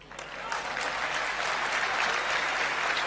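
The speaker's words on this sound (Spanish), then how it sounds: "Lo aplauden los empresarios." Businessmen in an audience break into applause, a dense burst of clapping that rises quickly and holds steady at close range for a few seconds.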